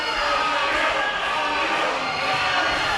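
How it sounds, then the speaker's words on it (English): A wrestling crowd at a Southern California pro wrestling event roars steadily, a dense wash of cheering and shouting that stays loud and even with no pause. "You can hear this crowd in Vista cheering on incredible Anthony Idol as he's back to his feet."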